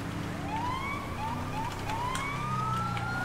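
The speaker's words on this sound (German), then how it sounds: "da kommt der Krankenwagen" An ambulance siren in the video game GTA 5 wails with rising, sweeping tones over steady traffic rumble, sounding at a moderate distance without pause.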